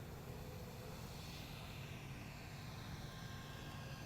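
FPV racing drone lifting off at a training session: a continuous, steady, high-pitched whirring propeller buzz with a faint rising sweep, holding even throughout with no speech.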